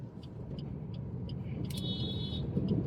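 A car rolls slowly in second gear through a narrow lane with a steady, close low engine rumble, and a brief high whine rises near the end.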